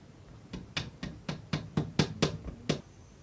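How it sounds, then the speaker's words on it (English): Sharp hammer taps strike in a steady run of about nine blows, close and fairly crisp, hammering draught-proofing strip into a sash window, with no talking. "And then you just hammer into place."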